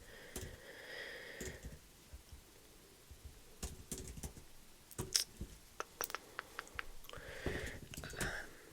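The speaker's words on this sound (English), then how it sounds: "I cannot type" Quiet keyboard typing at close range, a few short runs of soft key clicks with gaps between, amid rustles and other small handling noises and no talk.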